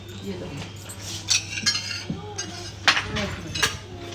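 Spoons and cutlery clink against dishes at a festive meal with crispy corn, producing sharp, scattered metallic chinks in an irregular rhythm, while people talk quietly in the background.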